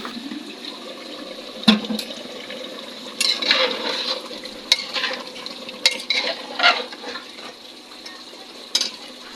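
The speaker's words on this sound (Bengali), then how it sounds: "মুরগির মাংস এখনো কষানো হচ্ছে" Chicken meat is braised in a pan, releasing its own juices with no water added. A continuous wet sizzle is broken by sharp scrapes and clanks as a spoon stirs it repeatedly.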